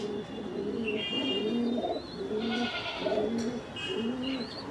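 A Fulsira-type pigeon at a home loft repeats throaty, undulating coos roughly five times in a steady rhythm, near and distinct, with faint chirps and a high whine in the background.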